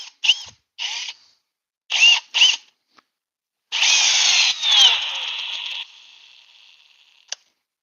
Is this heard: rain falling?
no